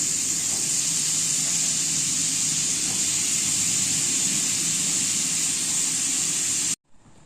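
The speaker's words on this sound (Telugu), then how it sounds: "ఆయిల్ హీట్ అయ్యాక మష్రూమ్ని ఫ్రై చేసి పక్కన పెట్టుకోవాలి" Mushrooms frying in hot oil in a pan, a steady broadband sizzle and hiss that holds evenly loud for several seconds, then cuts off abruptly near the end.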